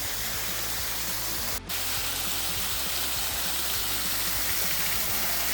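A waterfall pouring out over a cave mouth on a frozen Alabama hike gives a constant, close, hissing rush of falling water, broadband and unbroken apart from one brief dip.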